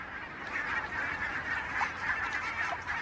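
A flock of geese and ducks gathered on a partly frozen lake honks and calls in a dense, steady chorus, moderately distant and continuous.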